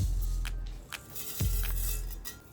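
Faint, scattered popping and crackling of mustard seeds in hot oil over a soft sizzle, a handful of sharp pops at irregular intervals.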